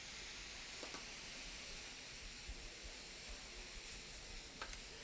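Noodles sizzle quietly in a stir-fry pan with soy sauce and rice wine for a spicy shrimp dish, a faint, steady hiss broken by a few soft pops and scrapes.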